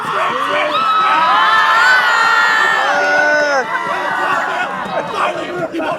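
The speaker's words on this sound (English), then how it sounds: "Come on, scream." An audience listening to a spooky story bursts into loud screaming on cue, many voices shrieking and whooping together in a dense crowd roar that tails off into scattered shouts and chatter.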